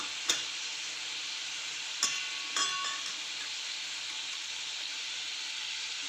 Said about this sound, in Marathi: मिक्स करून घ्यायचं छान छान परतून घ्यायचं आहे पालक